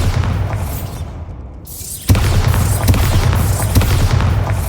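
A Bombarda spell detonates in the video game Hogwarts Legacy, a sudden loud booming blast that cuts in after a brief lull and leaves a dense rumbling roar with scattered crackles.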